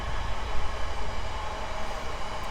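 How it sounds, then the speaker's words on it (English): A train rumbles past a valley campsite in Edale, a steady, loud low roar with broadband rushing noise that holds throughout, with no voices. "Train's being rude."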